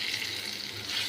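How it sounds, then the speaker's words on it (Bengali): Water pours steadily into a pan of potol curry cooking with sesame and poppy seed paste, a brief continuous splashing rush at close range. "জল দিয়ে দিচ্ছি,"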